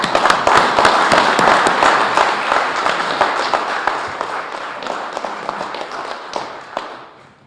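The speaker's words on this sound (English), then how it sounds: "please, a round of applause for you, the audience" Dense audience applause welcoming Senator Paul Feeney and Mark Pacheco to the stage at an evening community meeting on gas leaks, loud and continuous before tapering and fading out at the end.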